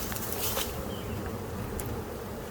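Honey bees in an open hive colony drone in a dense, steady buzz, close and continuous, with a few louder passes from individual bees near the microphone.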